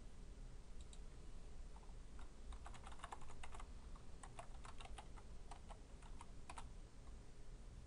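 Typing on a computer keyboard while entering a web address, a run of quick light key clicks in uneven bursts over a steady background hiss, close and fairly faint.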